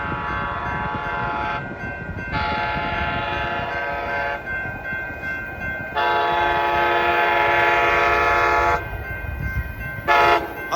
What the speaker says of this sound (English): This train will be flying by here. Once again, this is Amtrak Capital Corridor train 528.